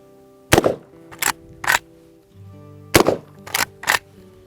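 Century Arms PW87 lever-action shotgun fired at bottles outdoors: two close groups of three loud, sharp blasts, each with a brief ringing tail, split by a short gap filled with faint rustling and low mechanical handling noise.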